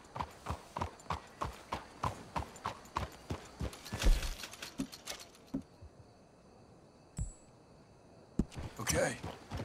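Horse hooves clip-clopping in the Red Dead Redemption 2 video game, a steady close trot that slows and stops, followed by quieter rustling and a few scattered thuds.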